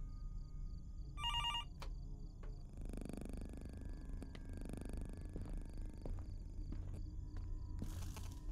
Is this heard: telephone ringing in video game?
yes